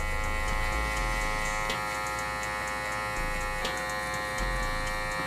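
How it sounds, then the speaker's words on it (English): Electric hair clipper running without a guard during a men's fade haircut, a steady close buzz with faint ticking clicks as the blades cut hair. "Now, I got the clipper, no guard."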